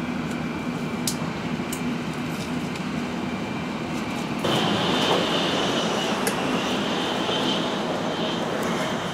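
Steady loud rumble inside a moving Japanese Shinkansen bullet train on a rainy day, a continuous broadband roar with a low hum that grows slightly louder partway through, with faint clicks and no talking.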